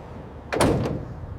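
A heavy trailer door being shut at a factory loading dock: one solid slam with a quick rattling follow-up thud, close and fairly loud against a low background hum, no voices.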